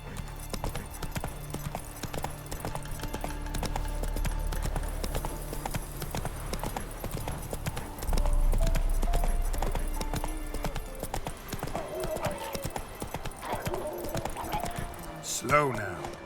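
Roach the horse's hooves clip-clop steadily in The Witcher 3, a rhythmic trotting pattern under a low ambient game soundtrack, ending with a short whinny-like flourish near the close.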